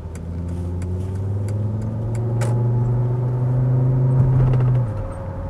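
A Volvo 850 T5 GLT estate with an automatic gearbox accelerating, heard from inside, the engine hum rising steadily in pitch and loudness before dropping back as the gear changes.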